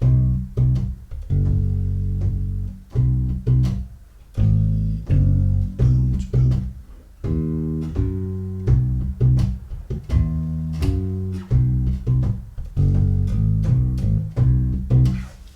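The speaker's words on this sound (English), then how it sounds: "I always come back to that rhythm, and then I just fill in the holes with tones from the scale" Bass guitar plays a major pentatonic bass line built on a repeating rhythm with scale tones filling the gaps, clear plucked notes with short pauses between phrases, close and alone.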